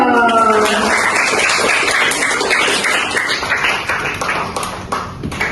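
Audience applause at a business seminar welcoming a speaker, brisk clapping from a seated crowd following a short musical sting, steady then gradually thinning.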